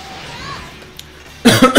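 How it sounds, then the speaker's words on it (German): A person coughs a few times in quick succession, close and loud, right after a quiet stretch. "Ah, husten, ich huste."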